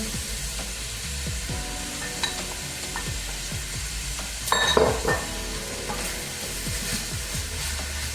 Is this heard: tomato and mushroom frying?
yes